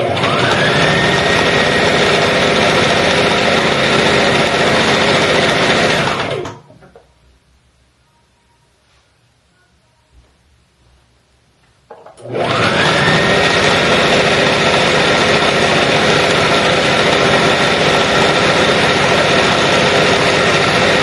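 A sewing machine stitching the hem of an abaya gives a steady, loud mechanical whirr that stops for about six seconds, leaving near silence, then starts up again and runs evenly to the end.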